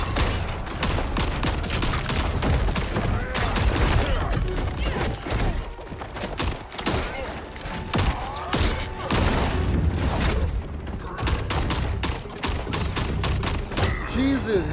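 Gunfire in Mortal Kombat 11, dense rapid volleys and crackling shots running continuously, loud and busy with thumps mixed in.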